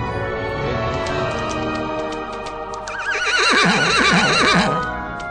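Several horses in the video game Horse Riding Tales neigh and whinny repeatedly, fairly close and loud, with the calls growing busier and overlapping in the second half.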